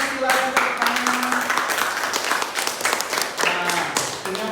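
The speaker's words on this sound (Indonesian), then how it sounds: "silakan tepuk tangan" Classroom applause in an Islamic religious education lesson, a dense patter of many hands clapping continuously from start to finish, with voices mixed in.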